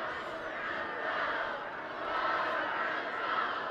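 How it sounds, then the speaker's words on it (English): Crowd in the stands at a high school football game between St. Francis and Notre Dame, a broad distant roar of cheering and shouting that swells steadily and holds for a few seconds. "Listen to the crowd."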